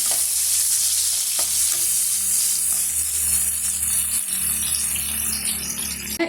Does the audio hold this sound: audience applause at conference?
no